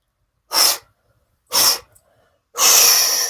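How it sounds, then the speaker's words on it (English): Three forceful breaths are blown out through the mouth during a bellows breathing exercise, each a loud, close, breathy rush, the last one longer and sustained, separated by silence. "we're going to be exhaling by blowing the breath out through the mouth 3 times"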